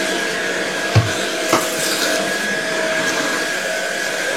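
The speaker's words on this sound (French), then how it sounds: "Donc là, vous voyez, il est en fonction aspirateur." A Jimmy PW11 Pro Max cordless vacuum cleaner runs in vacuum mode indoors, a steady broadband whir with a faint tonal hum and a couple of soft knocks, close and continuous.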